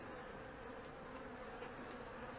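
Steady, dense buzzing of many honey bees around a hive, continuous and fairly close, with no voices.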